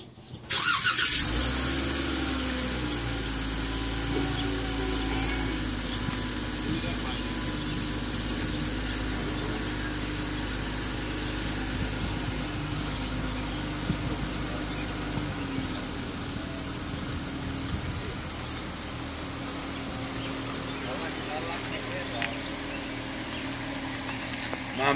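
A Dodge Challenger engine fires up and settles into a steady, loud idle with a deep low rumble that holds for the full length, close by and unbroken, with no talk over it.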